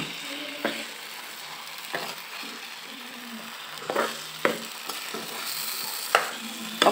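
Potato pieces frying in hot oil in a pan, a steady soft sizzle broken by intermittent scraping and clinks of a ladle stirring and breaking them up, fairly close and quiet.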